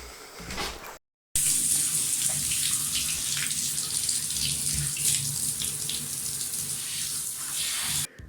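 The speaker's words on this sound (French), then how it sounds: "maintenant que le rinçage est fait" Water from a tap runs steadily and close by while hair is rinsed, a continuous splashing gush that cuts out briefly near the start and stops just before the end.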